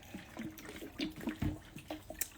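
Florida water, a mix of alcohol and water, is poured and trickles in a faint, uneven series of small splashes and drips, quiet and close.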